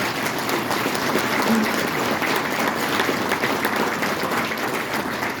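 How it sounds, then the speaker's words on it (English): An audience at a political meet-and-greet speech in Truro breaks into applause, a continuous, fairly loud roar of many people clapping that holds steady for several seconds. "Now, yes, you can applaud that."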